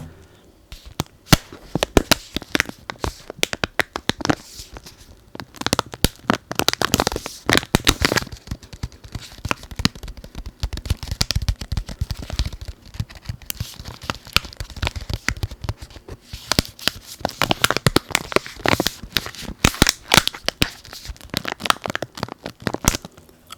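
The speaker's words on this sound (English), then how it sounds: "the tapping and crinkling of the little plastic case" A small plastic case being tapped and crinkled close up, with dense crackling and rapid clicking that rises and falls in bursts throughout, with no voice over it.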